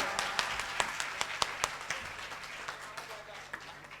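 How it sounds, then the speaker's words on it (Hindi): An audience at a mushaira in Fatehpur, Barabanki claps to welcome a guest: sharp, fairly regular handclaps over a soft background wash, fading gradually toward the end. "पूरे मजमे से मिलकर जोरदार तालियां बजाएं हमारे मेहमान आने का"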